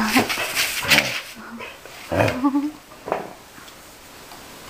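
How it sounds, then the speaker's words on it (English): A puppy that has come indoors lets out a few soft, high whimpers and whines, close by in a quiet room. "Nice puppy."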